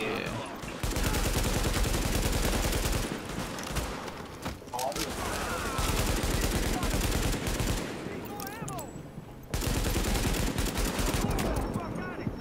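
Gunfire in the video game The Division, sustained rapid bursts and heavy volleys nearly nonstop, loud and dense, with players talking over the shooting.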